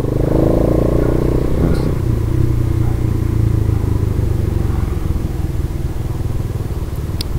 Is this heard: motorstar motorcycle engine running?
yes